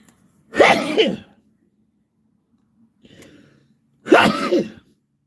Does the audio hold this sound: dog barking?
no